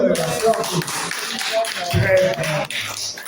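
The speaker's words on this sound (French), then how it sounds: "Alors, on peut applaudir" Audience clapping at a conference in Paris, scattered and uneven hand claps mixed with voices and room noise, moderately close, with people talking over it.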